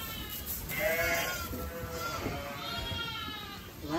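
A ewe bleats during lambing in a farm setting, several wavering calls that come and go at moderate distance over a background of soft rustling.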